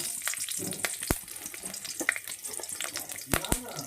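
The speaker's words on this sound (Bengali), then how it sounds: "তেল গরম হয়ে গেছে দিয়ে দেব আমি কাঁচা লঙ্কা" Green chilies hit hot oil in a kadai, a wok-style pan, giving a steady close sizzle broken by sharp scattered crackles and pops.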